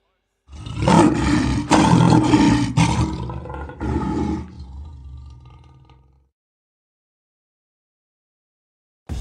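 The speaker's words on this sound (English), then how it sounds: "Yeah, the lion's voice. Raw." A lion roars several times in close succession, loud and near, each burst rough and raw, before trailing off into grunts and silence.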